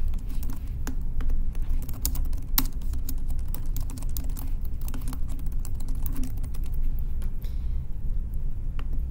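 Steady clicking of keys on a computer keyboard, a continuous run of close, light taps over a low background hum.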